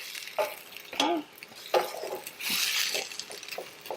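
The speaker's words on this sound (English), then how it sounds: "you want to cook the tomatoes in the garlic oil for about 3 to 4 minutes" Tomatoes and garlic sauté in garlic oil in a pan, with a steady close sizzle broken by several scraping stirs and light utensil knocks; no one speaks.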